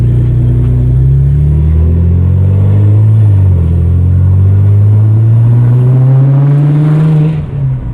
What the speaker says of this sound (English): That was me putting my foot down in normal mode.